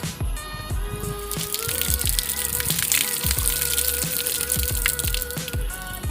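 Water running and splashing out as a fish-seed pond or tank is drained, a steady broad gush with scattered drips and knocks throughout, fairly loud and close, with no talk over it.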